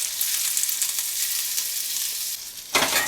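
Potatoes and carrots frying in butter in a pan, a steady bright sizzle that fills the clip, with a sudden louder crackle near the end as more food hits the hot fat.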